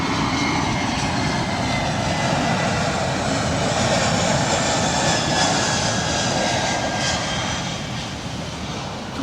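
A low-flying airliner near the coast at Ponta de São Lourenço, Madeira, roars loud and continuous as its engines pass overhead, fading slightly at the end.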